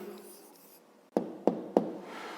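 Pen writing an answer in a school notebook, soft scratching followed by three sharp taps in quick succession, close and quiet.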